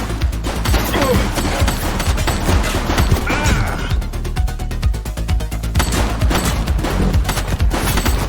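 Heavy, rapid gunfire in a police shootout in The Precinct crackles in continuous bursts, loud and close, with sharp repeated cracks throughout and no talking.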